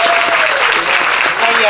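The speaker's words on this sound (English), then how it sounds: "Everyone give her a warm round of applause." Loud audience applause greets a performer at a blues music festival, a dense, steady clapping that fills the whole moment.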